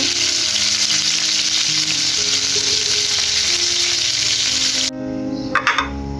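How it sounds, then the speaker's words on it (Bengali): Pangas fish frying in oil in a pan, a loud, steady crackling sizzle that runs for most of the clip, then drops suddenly near the end, leaving a few short clatters. "অলরেডি ভাজা হয়ে গেছে আর অল্প কিছু বাকি আছে"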